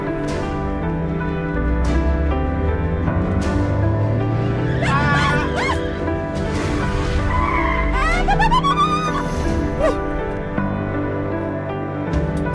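A car driven fast with a revving engine and repeated loud tire squeals as it skids and swerves, the screeches rising and falling over a steady motor roar.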